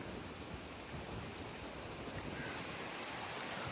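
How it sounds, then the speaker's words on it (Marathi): Sea surf washes steadily onto the shore beside a coastal village house on the Rewas route near Alibag, a continuous broad roar with some wind rumble and no speech. "समुद्र"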